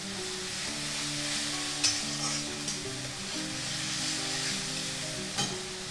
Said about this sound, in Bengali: মশলাটা একটু ভাজা ভাজা করব,